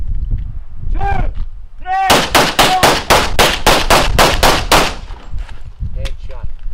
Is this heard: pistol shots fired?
yes